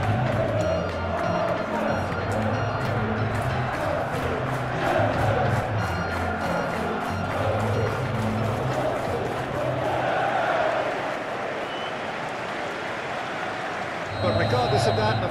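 Football stadium crowd at a Premier League match between Chelsea and Manchester United, a dense continuous roar of fans chanting and cheering that swells and holds, with a commentator's voice running over it.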